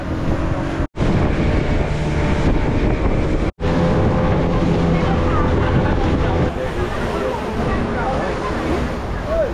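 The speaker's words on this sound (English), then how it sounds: "we are on the boat now on the way back" Wind buffets the microphone over a steady engine drone and rushing water as a boat crosses the sea off Sabah, Malaysia, with two brief dropouts in the sound.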